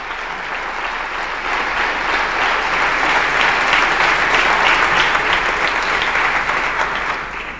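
Audience applause at the Premis Ciutat d'Igualada 2003 award ceremony: a dense, steady wash of many hands clapping together, loud and sustained throughout before tapering slightly at the end.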